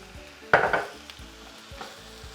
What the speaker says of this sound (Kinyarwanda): ubundi ukagaragura neza kugira ngo ntibifate hasi.